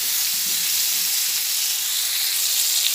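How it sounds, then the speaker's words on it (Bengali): Pointed gourd fries with turmeric, salt and Kashmiri chili powder, giving an even, continuous hissing sizzle close by and with no voices. "দিয়ে একবারে পটলটাকে ভেজে নিচ্ছি"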